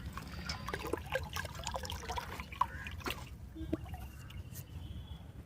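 Water poured into a tank along with jilebi fish (tilapia), a soft trickling and splashing stream with small drips, fairly faint, voices talking over it.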